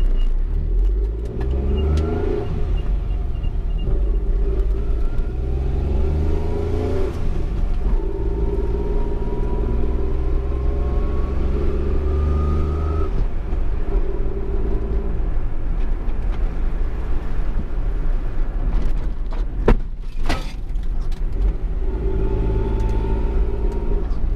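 A 1984 Suzuki Fronte 550 SS40, a lowered classic kei car, pulls away and drives steadily, its small engine droning loudly with rising revs and gear changes over constant road rumble.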